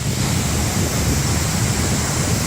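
A powerful waterfall in Iceland roars in a dense, continuous rush of falling water, loud and steady throughout with no voices.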